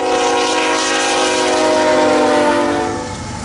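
CN freight train led by a new Tier 4 GE Gevo with a Progress Rail SD75M, number 200, as the third unit, passing loud and close with sustained horn-like tones and a rumbling roar that eases slightly at the end.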